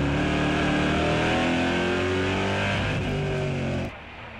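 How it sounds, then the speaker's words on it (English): NASCAR Whelen Euro Series race cars roar past at full throttle, a loud, dense engine howl that shifts in pitch as they pass and then drops away sharply near the end. "He shots past Zimmer under braking at Ritz."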